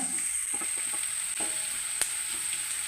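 Two slit green chilies drop into hot oil in a pan while making potato mezhukkupuratti, giving a steady close hiss and crackle with a few stirring clicks, alone without speech.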